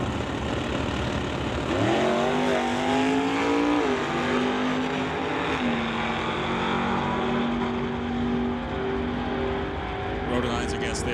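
A Ford Mustang drag racing car accelerates at a non-electronic bracket drag race, its engine roar climbing loudly in pitch in repeated surges before settling into a sustained, droning pull.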